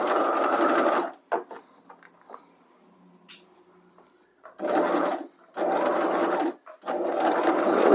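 A sewing machine stitches a garment waistband in several short bursts, with quiet handling noises in the pauses between runs, including the brief back tacks at the start and end.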